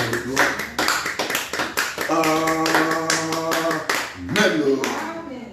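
Rhythmic hand clapping from a church congregation during a Sunday worship service, steady and loud beats running throughout, mixed with singing voices and a sustained musical tone in the middle.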